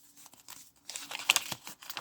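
A paper envelope crinkles and rustles in soft, close handling as cash is slipped inside, with quiet irregular crackles that grow a little busier toward the end.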